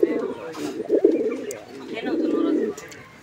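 A male Karmona pigeon coos close by in a few rounded, throaty bursts, the repeated calls rising and falling with short gaps between them.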